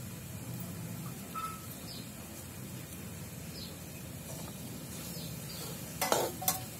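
Potato and capsicum sabzi sizzles and frys in a kadhai while a spoon stirs it, with soft scraping and a couple of louder metallic clinks near the end, close and steady with no talking.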